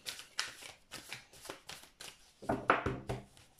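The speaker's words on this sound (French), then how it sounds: "On va tirer quelques cartes." Tarot cards being shuffled close up in a rhythmic series of crisp riffling bursts, about eight in quick succession, ending in a fuller riffle. No one speaks.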